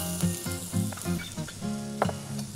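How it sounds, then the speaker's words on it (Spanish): Two chopped white onions begin cooking in corn oil in a pan, giving a steady close sizzle and crackle that continues throughout, with light stirring scrapes and a faint low tonal hum underneath. "aceite de maíz, para empezar a cocinar la cebolla, las cebollas, porque tengo dos, cebolla blanca picada."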